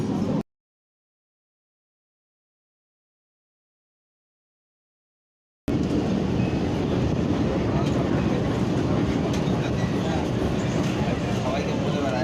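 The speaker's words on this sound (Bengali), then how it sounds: "এখন আমি মেট্রোর মধ্যে আছি" Steady rumble and rattle inside a moving Kolkata metro train, loud and continuous, following several seconds of dead silence at the start; a voice is heard over the ride.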